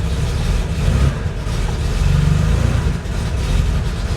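A 1979 Porsche 911 Targa, parked in neutral with the e-brake on, runs loud and close, a rough air-cooled engine drone that swells twice with throttle and eases back, no voices over it.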